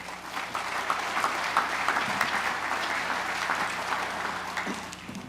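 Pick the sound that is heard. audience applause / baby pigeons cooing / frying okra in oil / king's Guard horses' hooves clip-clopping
audience applause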